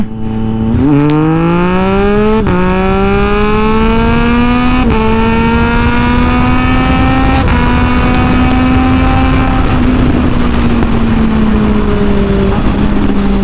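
A 2020 Triumph Street Triple RS fitted with a CR Racefit Extreme exhaust revs hard and close, its engine note climbing and holding, punctuated by several sharp exhaust pops and crackles.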